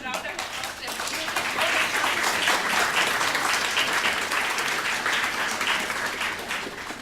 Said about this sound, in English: So thank you and one round of applause.